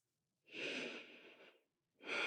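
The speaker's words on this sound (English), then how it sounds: "One more deep breath wherever you are." During a yoga stretch, a person takes one long, close, airy breath lasting about a second, followed by a short pause and the start of another breath.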